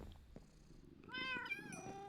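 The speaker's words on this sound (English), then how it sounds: "Look at all the cats. There's so many cats." Several Minecraft cats meow in high, wavering calls that overlap near the end, faint and without talk over a quiet game backdrop.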